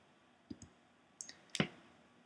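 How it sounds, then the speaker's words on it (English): Several sharp mouse clicks on a web page, a soft pair followed by a louder double click, close and quiet with no talking. "So we click the title of a book."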